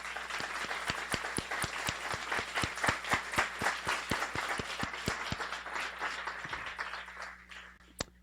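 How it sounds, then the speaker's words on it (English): Audience at a Guiding Eyes guide dog graduation applauding Ithaca College puppy raisers, a sustained round of clapping with distinct near claps that fades out toward the end. "You guys want to stand up so we can applaud you?"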